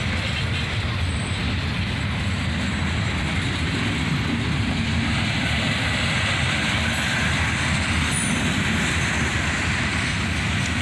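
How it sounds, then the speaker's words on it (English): A CSX freight train pulled by a pair of EMD SD43 rebuild locomotives accelerates out of a yard, a loud, continuous roar of diesel engines and rolling wagons close by. "a pair of SD43 rebuilds roar as this train accelerates"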